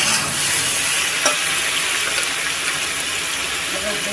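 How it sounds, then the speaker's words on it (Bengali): Malabar spinach (pui shak) frying in a pan with salt, giving a loud, continuous close-up sizzle and crackle and one brief clatter partway through, with no voices. "দেখুন খুব সুন্দর ভাজা ভাজা হয়ে যাচ্ছে"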